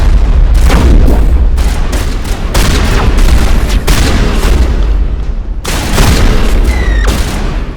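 Shotgun blasts in Mass Effect combat boom out loud and close, a rapid run of heavy shots followed by a pause and another burst, with sharp electronic weapon tones ringing near the end.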